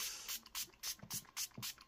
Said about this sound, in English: I'm going to go ahead and set the face with some setting spray